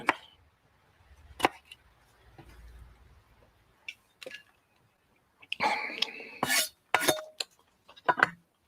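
Knife chopping through a pumpkin with the seeds left in, a series of sharp cutting knocks and clatters against the board, loudest in a burst toward the end, with quieter handling noises before.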